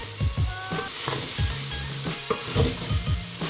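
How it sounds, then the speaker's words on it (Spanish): Onion, carrot, ginger, broccoli and mushrooms stir-fry in a hot pan, with a constant close sizzle broken by repeated scraping stirs in an uneven rhythm. "Y con la cebolla tostada añadimos la zanahoria, la jengibre, removemos y añadimos el brócoli y los champiñones."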